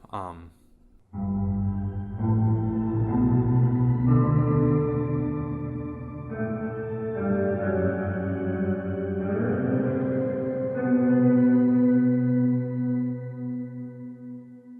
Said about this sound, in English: my organ sound using Sparkle. That gives an up octave and a down octave.